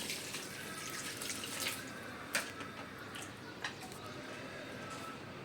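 Water pours steadily into a mixture in a kitchen, a faint continuous running flow with a couple of small splashes and no talking.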